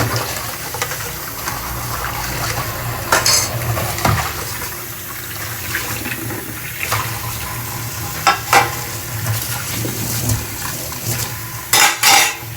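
Pots and dishes are scrubbed and washed in a home kitchen while cooking dhaba-style chicken masala, with steady scraping and scattered metallic clanks and knocks, some sharper bursts near the end, close by and with no talking.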